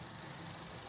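A 2005 Honda Jazz GD3 with a 1500 cc VTEC engine idles steadily up close, with a continuous mid-frequency hum and a faint rattle from a worn fan belt tensioner.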